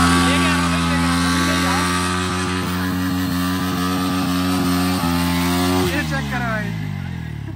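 A Bajaj Dominar 400 motorcycle stuck off-road revs hard and close at a steady, loud pitch for several seconds, then the engine note drops and fades as the throttle is released.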